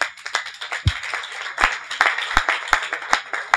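A congregation claps during a thanksgiving service at a church in Montréal: irregular, fairly close sharp claps and taps, some with a deeper thump, over a steady murmur of the room.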